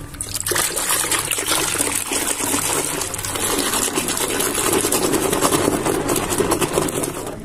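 Water pours steadily into a bucket to soak clothes, a continuous splashing trickle that stays loud and even throughout with no talk.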